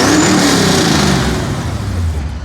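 A tuned 600 HP Toyota Camry XSE engine revs loudly and up close, with a rising whine at the start before a deep, throaty rumble settles low and sustained.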